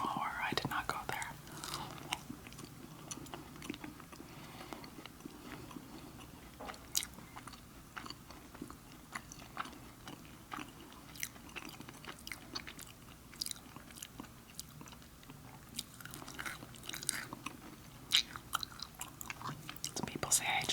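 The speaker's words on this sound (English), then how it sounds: "Some people say I chew too fast." Close, crisp chewing of Irish corned beef and soda bread, with quick repeated moist bites and soft crunches in an irregular rhythm, interrupted by soft speech.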